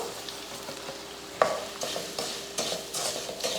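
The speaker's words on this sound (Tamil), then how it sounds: "ரவையை சேர்த்து இது போல் நல்லா அந்த காய் கூட நல்லா கலந்து விட்டுறணும்" Semolina being stirred into sautéed vegetables in a pan for rava kichadi: soft scraping strokes over a gentle sizzle, with one sharper clank of the spoon early on and a few repeated swishes after.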